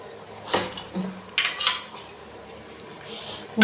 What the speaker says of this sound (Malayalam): എല്ലാം കൂടി ഒന്ന് ഇളക്കി ഒഴിപ്പിച്ചു കൊടുക്കാം